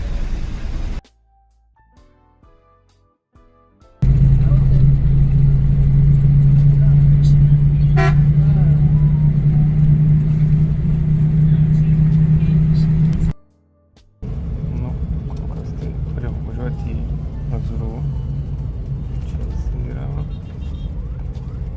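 A car drives through the Moroccan town of Azrou, its engine humming loudly inside the cabin amid traffic and car horn toots, with a couple of abrupt drops to near quiet.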